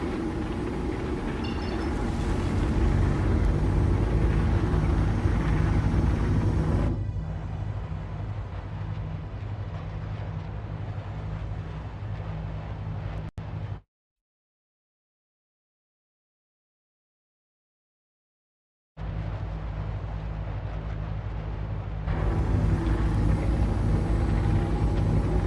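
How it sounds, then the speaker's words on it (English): A spaceship engine in a space video game gives a steady, loud rumbling drone. It cuts to silence for several seconds, then resumes with the same continuous hum and no voices. "There we go, get that beautiful engine noise back."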